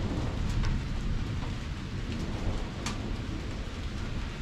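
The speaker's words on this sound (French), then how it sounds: "sur les sommets, ça tourne un peu orage." Steady rain pours over mountain summits as a storm builds, a dense continuous wash with a few sharp drop or crackle accents and low rumbling beneath, no voices.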